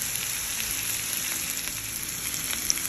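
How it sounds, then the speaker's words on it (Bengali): Chopped onions fry in hot oil with a constant, even, close sizzle and no talking. "তেলটা গরম হয়ে গিয়েছে, এবার পেঁয়াজ কুচিগুলো এর মাঝে দিয়ে নিব"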